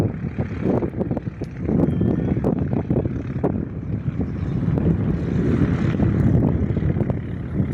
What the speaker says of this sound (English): Cessna C182 departs Jandakot